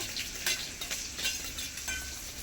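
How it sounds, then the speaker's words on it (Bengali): Soy, chili and tomato sauces are whisked together in a bowl, making quick, rhythmic scraping and sloshing strokes that repeat several times a second, close by and with no voices. "3 রকমের সস একসঙ্গে তো ফেটে রেখেছি"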